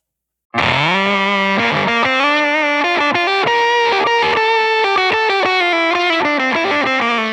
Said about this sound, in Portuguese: E por último é aquele fuzz ardidaço do preset 7.